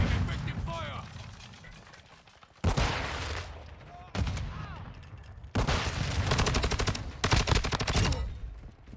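Bursts of gunfire in Call of Duty: Modern Warfare 2 multiplayer, loud repeated volleys and rapid automatic strings with quieter gaps, mixed with game effects and occasional talk.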